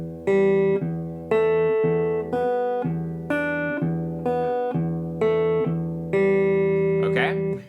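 Fingerstyle acoustic guitar pattern alternating a steady open low E bass note with single higher scale notes between, about nine even plucked strokes that ring and decay, played alone and up close.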